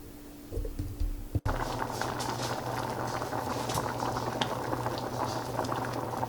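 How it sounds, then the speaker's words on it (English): Noodles boiling in a pot of water, a dense, steady bubbling roar close by after a brief knock near the start, continuous and even throughout with no talking. "we need to let this boil for about 7 minutes"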